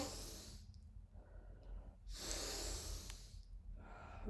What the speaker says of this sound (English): start breathing in